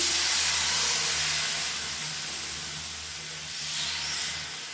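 Rava dosa batter, made from semolina and needing no maida or rice flour, sizzles on a well-heated griddle as a steady, loud, continuous hiss with no talking.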